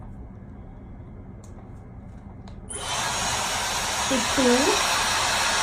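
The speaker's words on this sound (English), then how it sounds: "So I'm using my Dyson hairdryer with the Dyson diffuser" Dyson hair dryer fitted with its magnetic diffuser attachment starts up partway through, a loud steady airy whoosh replacing quiet room tone, with a brief voice over the running blower.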